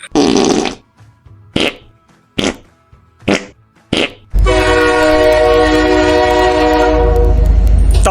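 A train horn blares long and loud with a deep rumbling beneath, after five short, sharp bursts of noise spaced about a second apart.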